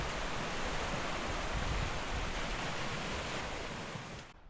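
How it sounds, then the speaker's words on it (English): Sea waves wash steadily on a calm Belgian beach, a broad even surf hiss that holds for a few seconds before fading out at the end. "you could hear a pin drop along with the sound of the sea."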